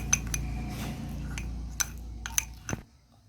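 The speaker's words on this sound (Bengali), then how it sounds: "তো আমি এরপর 1 চামচ মধুটা নেব, এটার সাথে এটা মিক্সড করব।" A spoon stirring a spoonful of honey into a homemade skin paste in a small bowl, giving soft clinks and scrapes against the dish, a few sharper taps, then quiet.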